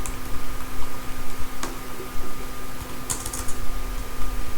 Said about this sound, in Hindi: ये मैं डेटा एंटर करती जा रही हूँ।